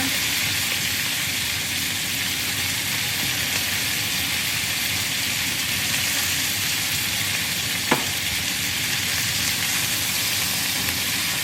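Onions and carrots sizzle steadily in a hot pot as a chicken or turkey broth base gets started, a continuous close frying hiss with one brief clink partway through.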